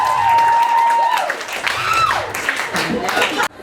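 Comedy club crowd in Boston breaking into loud applause and cheering after a punchline, sustained clapping with a few whoops mixed in, then cutting off abruptly near the end.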